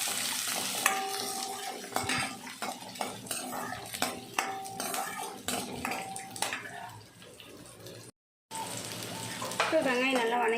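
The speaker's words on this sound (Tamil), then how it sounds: "வெங்காயமும் போட்டு நல்லா வணக்கிக்குவோம்." Onions sautéing with garlic in a pan while cooking brinjal kuzhambu, close sizzling under repeated metal spoon clinks and scrapes against the pan, with a brief silent gap before the frying sound resumes.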